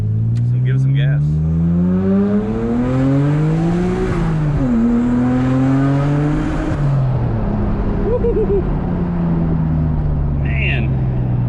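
A Nissan R33 GTR engine revs and pulls hard through the gears, heard close from inside the car, its pitch rising, dropping at each shift and climbing again, loud and steady throughout.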